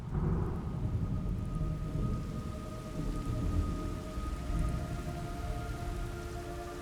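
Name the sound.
rain and thunder in a video game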